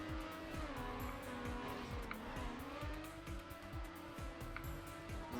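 Race car engine in Trackmania revving steadily with repeated rising and falling pitch sweeps as gears shift, plus faint tire squeal, continuous and close, with no voices.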